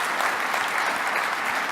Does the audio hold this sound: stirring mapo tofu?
no